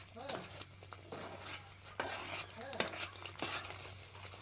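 Stirring a Kannada home-cooked mixture with a couple of teaspoons of sesame oil, a spoon scraping and clinking against a pot in repeated strokes, with a low steady hum beneath.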